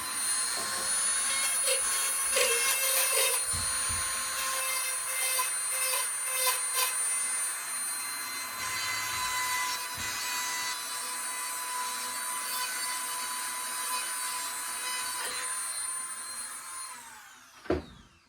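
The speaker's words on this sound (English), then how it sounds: "So I'm going to get my Dremel out. We're going to clean it real quick, nice and clean" A Dremel rotary tool whines steadily at high speed while cleaning a switch on a Gottlieb electromechanical Outer Space pinball machine, a continuous buzzing grind that runs close and loud for most of the clip, then stops abruptly near the end.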